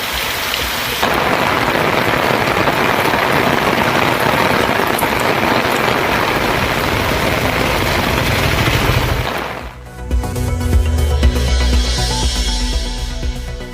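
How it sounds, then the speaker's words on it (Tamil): Heavy overnight rain pouring down in Chennai, a dense steady roar of downpour that cuts off abruptly near the end, giving way to low rumbling and softer ambient patter. "சென்னை மற்றும் புறநகர் பகுதிகளிலும் பல்வேறு இடங்களில் விடிய விடிய பெய்த மழை"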